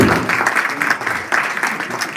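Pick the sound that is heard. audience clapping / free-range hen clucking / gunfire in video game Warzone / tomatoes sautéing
audience clapping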